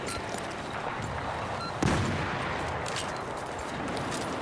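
A grenade explosion and gunfire in a modern-setting video game: a sharp blast bursts out about two seconds in over a steady background of distant battle noise and faint shots.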